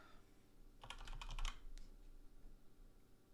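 A quick burst of keystrokes on a computer keyboard, a short rapid cluster of faint clicks lasting about a second against quiet room hiss.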